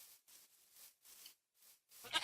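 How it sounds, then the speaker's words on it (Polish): A Minecraft goat gives a series of faint, short, breathy bleats in quick succession, ending in a slightly louder, sharper cry. "Koza nas goni."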